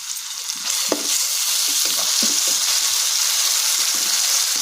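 Ginger garlic paste frying with salt, turmeric and tomato pulp for a sweet corn gongura palav, a steady loud sizzle throughout with scattered scraping stirs of a spoon against the pan, no voices.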